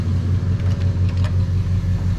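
Engine of a 1950 Ford Coupe runs at a steady idle, a close, even low rumble with faint ticking on top and no talk.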